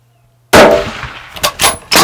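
A single rifle shot fired at an axis deer on a Texas hunt cracks loud and close out of silence, followed by a brief rolling echo and a few sharp after-sounds.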